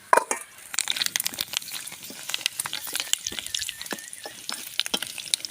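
Potato chips frying in a small amount of oil in a home kitchen, a steady crackling sizzle with dense pops and spits throughout, close and fairly loud, with no talking.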